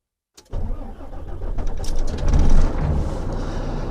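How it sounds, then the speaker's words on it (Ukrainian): An Audi engine cold-starts after a click of silence, cranking briefly before catching and settling into a rough, loud idle that surges once, recorded from inside the car. "Холодний запуск."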